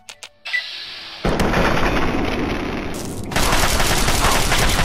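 Turret gunfire in the video game Fallout 3, with a few sharp shots and then loud, continuous rapid automatic fire that grows even denser near the end.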